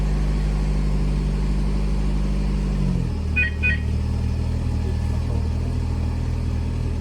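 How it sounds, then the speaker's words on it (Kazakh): A VAZ 2110 car engine idles steadily up close after remote autostart, a loud low hum that shifts pitch around three seconds in, with two short electronic beeps just after and no talk. "Көлік оталды."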